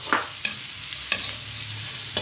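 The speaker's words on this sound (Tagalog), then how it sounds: "Hintayin po na muna natin maluto ang hotdog" Hotdogs fry with a steady sizzle in a pan while a utensil stirs them, giving a few sharp scraping knocks spaced through the stretch; no one speaks.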